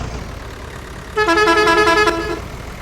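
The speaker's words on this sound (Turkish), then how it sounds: "Adam korna çalıyor adam" A truck horn blares once in Farming Simulator, a loud sustained honk of a bit over a second standing out over low background rumble.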